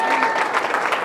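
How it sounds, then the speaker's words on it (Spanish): A church congregation claps in a brief, loud burst of mixed applause with voices mingling in the crowd. "Denle ese aplauso a Cristo"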